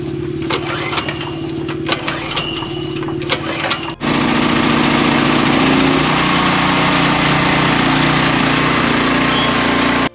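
A small engine is pull-started: several rattling pulls of the starter cord, then it catches and runs loudly and steadily at close range for the rest of the clip.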